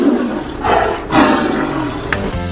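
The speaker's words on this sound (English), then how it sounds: "Number 1. Tiger." A tiger roaring: a loud, deep, rough roar in two long surging pulses, close and alone with no talk.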